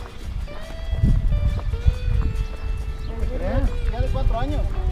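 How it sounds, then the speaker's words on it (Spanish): Horse hooves clip-clop on the ground before a horse race in Arandas, with occasional neighing, under steady crowd chatter and nearby talking. "Acá el caballo ya está poniendo listo."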